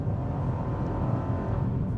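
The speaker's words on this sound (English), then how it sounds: "I also like the sound of this engine." The three-cylinder engine of a 2025 Chevrolet Trax RS SUV drones steadily under acceleration, a continuous low rumble heard from inside the cabin with no talking.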